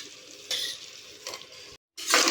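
Washed chicken added to hot oil and masala for chicken kulambu, giving loud bursts of sizzling and spattering with stirring, broken by a brief silent gap before the frying surges up again.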